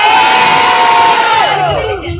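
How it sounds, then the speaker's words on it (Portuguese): A crowd at a freestyle rap battle semifinal in Santo Amaro cheers and shouts loudly for a brief burst, a dense close roar of voices with one sustained high yell fading out. "Levanta a mão e faz muito barulho, só quem preferiu o freestyle do Choque."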